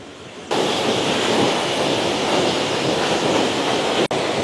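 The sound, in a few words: Rani Duduma waterfall flowing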